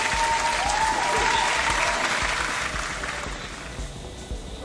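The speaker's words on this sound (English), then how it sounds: "let's give him a clapping hand." A crowd at a rapid chess tournament applauds a player, a dense, even burst of clapping that stays strong and then gradually thins and softens toward the end.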